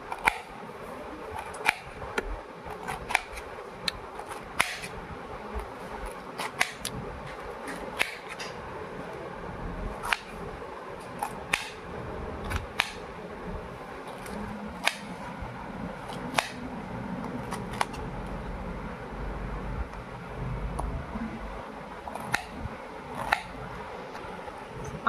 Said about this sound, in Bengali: এবার আনারসগুলো পিস করে নেব।